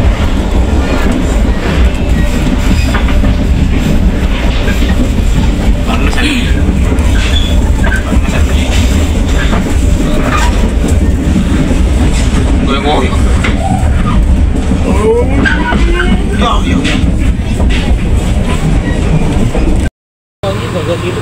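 Serayu subsidized passenger train on the Cibatu–Jakarta line, heard from inside with a steady loud rumble, rhythmic wheel clatter over rail joints and occasional squeal, continuous throughout with a brief dropout near the end.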